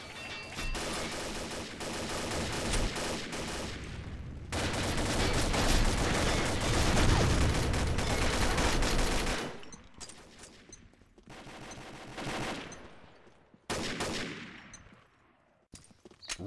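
Gunfire from a Minimi machine gun in the online shooter Combat Arms, with long sustained automatic bursts, loud and dense, then shorter separated bursts with brief gaps between them.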